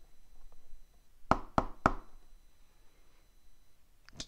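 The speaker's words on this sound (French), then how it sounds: "Le loup frappe à la porte" Three sharp knocks on a door in a children's tale, evenly spaced and close, followed by a quiet pause and a fainter tap at the end.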